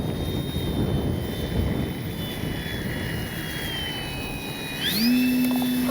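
An E-flite Commander MPD electric RC plane flies its maiden flight, its motor whine moving in pitch against strong wind rumble. Near the end the whine sweeps sharply upward.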